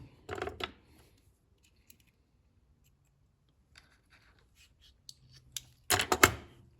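A .410 shotgun shell is cut open to get the wad out, with faint, sparse snips and small handling clicks, then a louder burst of cutting at the end.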